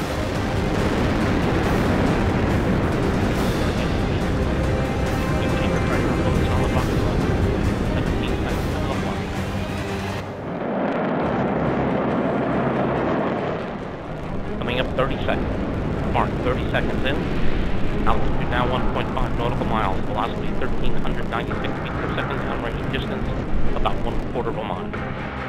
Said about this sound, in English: liftoff of the United Launch Alliance Delta IV rocket carrying the NROL-45 mission for the National Reconnaissance Office